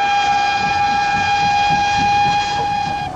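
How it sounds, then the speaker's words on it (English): An E2-class steam tank engine of the London, Brighton and South Coast Railway sounds a loud, steady, sustained whistle close by. The chugging of the running locomotive rumbles faintly underneath. "we can see one of the tank engines in action."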